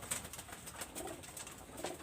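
Imported flying pigeons coo softly in a quiet, continuous low murmur, with faint chirps and light rustling mixed in.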